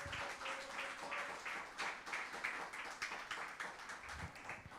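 A church congregation claps together during a worship service, a steady stretch of dense hand claps with a faint voice carrying underneath.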